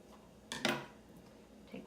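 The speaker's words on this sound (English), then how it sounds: "And then you can cut your yarn." Scissors snipping through knitting yarn after loom stitching, two quick close crisp cuts in a quiet room, with a faint rustle just after.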